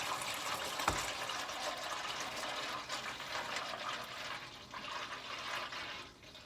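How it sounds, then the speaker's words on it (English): Engine oil draining from a 1980 Toyota pickup during an oil change, a steady continuous liquid pour and trickle into a pan, close and even throughout. "All right, the oil is draining"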